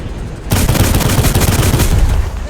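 Loud, sustained gunfire from an Sd Kfz 140/1 in the War Thunder video game crashes in abruptly after a brief lead-in and continues as a dense, booming barrage to the end, with no voices.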